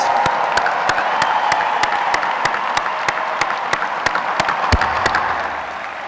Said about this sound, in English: Seniors, a round of applause